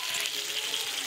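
Chili chicken fries in a pan as water is poured in, giving a brief, bright hiss of sizzling.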